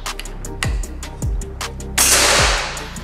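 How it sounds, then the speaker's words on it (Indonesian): Several sharp snapping Gousuto Oria V2 air rifle shots ring out at intervals, each a quick crack followed by a short thud, with a louder hissing burst after the third. "Dan kita langsung saja tes di tembakan yang pertama."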